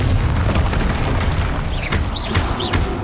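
A Confringo blasting-curse spell explosion from a magic game: a loud, continuous booming roar with dense low rumble throughout, and whooshing, swirling magical effects rising near the end.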